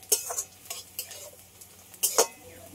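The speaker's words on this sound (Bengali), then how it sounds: "আদা কুচি আর রসুন কুচি দিয়ে দেবো। এগুলো সব একসাথে একটু লাল লাল করে ভেজে নেব।" Chopped ginger and garlic frying in a pan while being stirred, heard as quiet intermittent scrapes and clinks of a utensil against the pan with a soft sizzle underneath, no voices.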